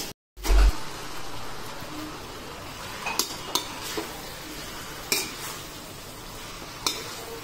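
Pallipalayam chicken masala stirred in a pan with a spoon, the sizzle of frying running continuously underneath while a few sharp metallic scrapes and clinks ring out at irregular intervals.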